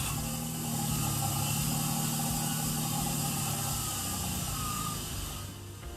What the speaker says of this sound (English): I can go ahead and start the engine.